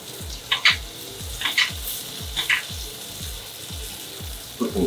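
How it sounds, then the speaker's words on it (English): Butter sizzling in a hot pan with steak on a stovetop, a steady crackling fry with rhythmic scraping or stirring strokes recurring about once a second. "heat right down, butter goes in."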